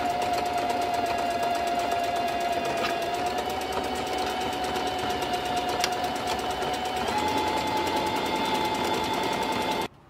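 A sewing machine runs a continuous zigzag stitch along hair wefts, a steady, close, rapid mechanical whir that stops abruptly at the end, with no talking.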